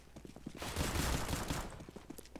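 Rapid bursts of gunfire in the video game CS:GO on the Inferno map, a dense rattle of shots building and fading over a couple of seconds at moderate, slightly distant level.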